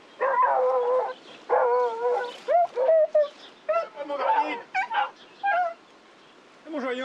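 Fauve de Bretagne hounds on a rabbit hunt bay in repeated drawn-out cries and yelps, several dogs overlapping in bursts with short gaps, fairly close and clear.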